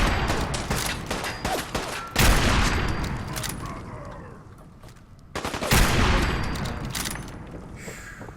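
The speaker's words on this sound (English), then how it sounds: "Devastating gunfire." Rapid bursts of gunfire from the video game Fallout 4 crackle and boom in heavy volleys, with a short lull between two intense flurries.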